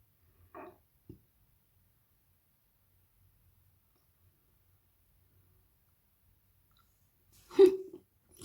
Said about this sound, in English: Got the hiccups now.